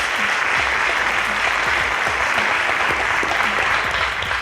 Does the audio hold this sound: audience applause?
yes